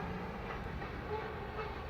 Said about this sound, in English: you're liable for your own self if you run in front of a moving freight train